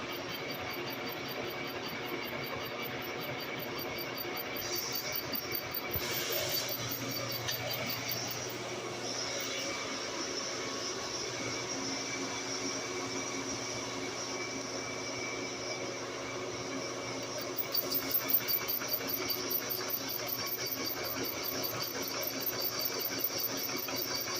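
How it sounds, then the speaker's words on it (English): A lathe turns down steel burnouts into pin bosses for a coupler bucket pan: a steady mechanical hum and whine runs throughout with a faint grinding edge, a few brief higher squeals, no talk. "We're just turning down these burnouts, turning them into bosses for that bucket, for that bucket pan"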